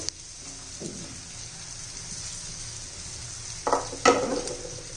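Potatoes go into masala frying in a pan, with a steady soft sizzle underneath and a few louder scraping, stirring bursts near the end.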